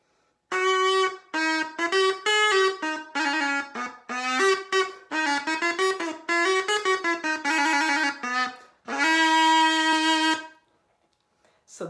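Renaissance alto crumhorn, a double reed instrument, playing a buzzy, nasal melody of short and sustained notes, loud and close, ending on a held tone before silence.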